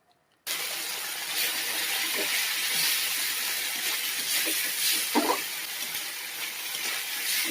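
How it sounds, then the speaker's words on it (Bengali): Spices fry in hot oil in a pan, cooked for a potato and pointed gourd dish. A steady, moderately loud sizzle starts abruptly and runs on with a few faint clinks. "মশলাগুলো এখন ভেজে নেবো ভালো করে"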